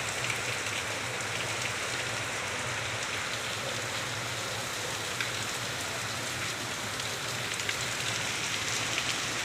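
Heavy rain pours steadily outside a house during monsoon weather, a dense continuous hiss with drips and patter on surfaces, close and loud throughout with no talk.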